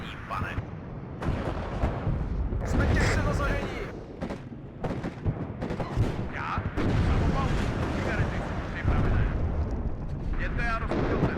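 Artillery guns firing in the real-time strategy game WARNO during an armoured assault, repeated heavy booms and rumbling blasts rolling on, with someone talking over much of it.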